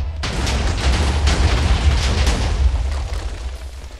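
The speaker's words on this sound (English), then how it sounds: "and a big explosion happened." A TNT minecart blows up inside a house in modded hardcore Minecraft, giving a loud, rumbling blast that starts suddenly and keeps roaring for several seconds before easing off slightly.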